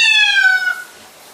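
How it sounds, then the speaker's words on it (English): A cat being bathed in a shower stall lets out a single loud, close meow that slides downward in pitch and then fades into quiet. "The cat is now in the shower stall."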